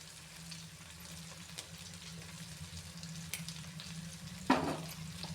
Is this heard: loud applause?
no